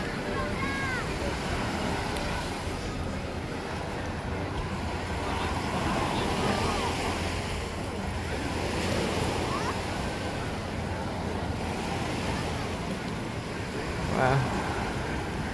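Ocean waves and surf at Waikiki Beach in Honolulu, Oahu, Hawaii: a steady, broad wash of surf with wind noise on the microphone, continuous and fairly even for the whole stretch, with no clear voices.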